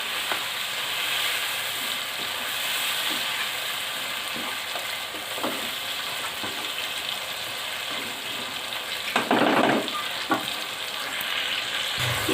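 Tomato paste is stirred into beef and onions frying for a Sindhi beef biryani, a continuous sizzle broken by soft scrapes and a wetter, louder burst of stirring toward the end.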